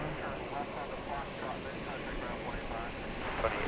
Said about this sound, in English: We've got this 767. This is going to Louisville, flight 773.